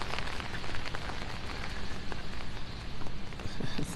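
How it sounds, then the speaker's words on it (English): Heavy rain from Hurricane Ian pouring down on Fort Myers Beach, a dense, steady, close hiss of drops on surfaces with no break. "I'm gonna go over here where I can get out of this rain a little bit."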